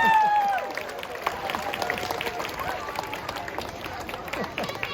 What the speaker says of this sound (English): why don't we give him a big round of applause